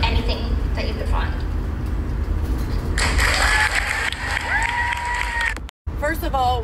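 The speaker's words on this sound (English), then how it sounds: "why are they clapping for her?" An audience claps after a speech on prison reform, with steady applause rising in the middle, and a voice talks over the clapping.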